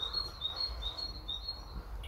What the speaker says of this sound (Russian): Под пение птичек.